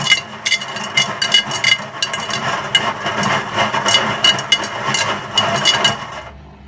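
A Hotpoint WMA50 washing machine on its final spin with heavy chains inside, loud and steady, the chains clattering and banging in bursts against the drum over a churning motor drone, stopping abruptly near the end.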